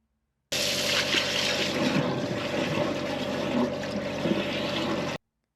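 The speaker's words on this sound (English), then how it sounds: "I'm just going to run some water down it just to flush that bit through." Water running down a blocked drain at a recycling centre to flush it through, a steady loud rushing gush that starts and stops abruptly, with no speech.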